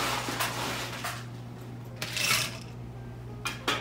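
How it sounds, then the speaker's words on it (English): Ice going into a cocktail mixing glass for a Sazerac: scattered faint clicks and a short clattering rattle, with a few more knocks near the end, quiet and close with no speech. "Then we fill our mixing glass with ice."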